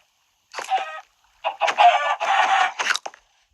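Chickens in the video game Minecraft cluck in two short bursts with a brief pause between, close and clear against silence.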